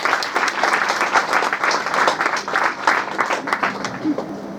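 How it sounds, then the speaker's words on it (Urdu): Sustained audience applause fills a ghazal evening program, dense steady clapping from a large crowd that holds at an even level throughout without a break. "ان کے لیے زوردار تالیاں ہونی چاہیے"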